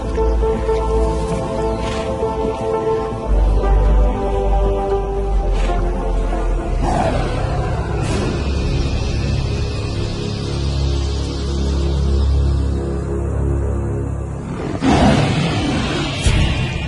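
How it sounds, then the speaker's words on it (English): A wild lion roars in the distance: deep, drawn-out rumbling calls repeat over a low sustained drone, without voices. "This roar from afar is a sound that spells trouble."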